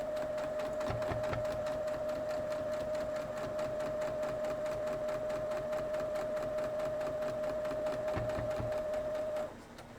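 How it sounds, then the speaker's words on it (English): A sewing machine stitches quilt block pieces together, running in a steady, fast mechanical whir with a constant motor tone throughout before slowing and stopping at the very end. "I'm going to sew this side"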